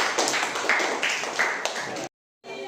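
A classroom of students claps for their classmates' groups, a brisk run of hand claps that cuts off abruptly, followed by a brief resumption of room noise.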